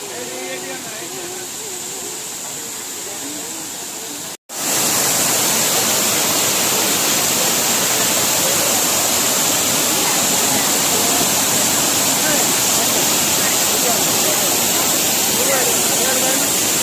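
A waterfall at a picnic spot in Keonjhar district, Odisha, roars loud and steady. Broadband rushing water fills the clip from start to end, with a short break near the beginning.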